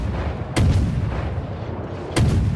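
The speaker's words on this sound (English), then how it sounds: "Uh-oh, Miyoko's firing on me. Wait, no he's not. He's firing over me." Two heavy booming warship gun salvos from the World of Warships game, about one and a half seconds apart, each a deep thud with a rumbling tail over a low background drone.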